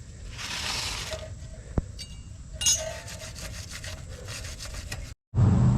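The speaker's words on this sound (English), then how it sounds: "we're going to go ahead and clean up this area right here with a wire brush" A wire brush scrubs the brake caliper area of a Chevrolet Silverado or GMC Sierra pickup truck in steady rasping strokes, with a light metallic clink partway through, before a sudden brief cut.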